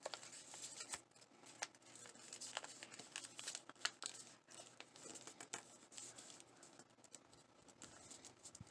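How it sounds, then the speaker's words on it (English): Paper is folded and creased for an origami crab, giving continuous soft crinkling, rustling and crisp taps. The sound is close and quiet, with no talking. "Folding it in. About halfway, unfolding and folding behind."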